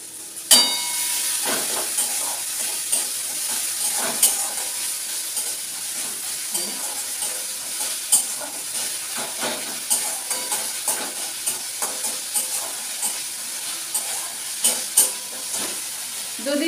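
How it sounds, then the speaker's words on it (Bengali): Egg curry sizzles and fries steadily in a pan, a continuous bright hiss with scattered crackles and occasional stirring scrapes, close and loud throughout. "ডিমের কারি করছি"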